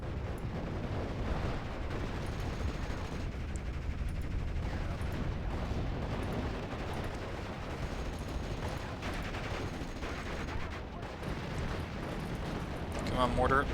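Artillery and gunfire rumble constantly across a Normandy 1944 hedgerow battlefield in Steel Division: Normandy 44, a dense, distant barrage of booms and crackling shots with no clear gaps.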